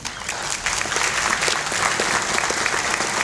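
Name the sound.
audience applause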